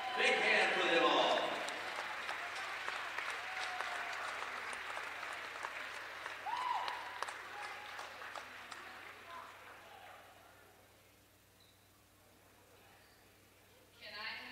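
A basketball game crowd gives loud, sustained applause for the 2021 fall sports all-conference honorees, clapping that slowly fades into quiet arena ambience before a brief late swell.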